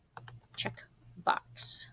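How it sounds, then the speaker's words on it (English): Keystrokes on a computer keyboard clack in short bursts while a person talks over them, the typing close and moderately loud. "From here, I'm going to type the word"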